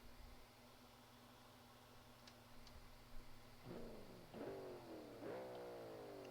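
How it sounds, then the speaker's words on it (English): A low BMW-style 5-litre V8 engine in the BeamNG.drive game idles steadily, then revs up sharply three times in rising whines that fall back, growing somewhat louder with each burst. "So this is basically 5 litre BMW V8."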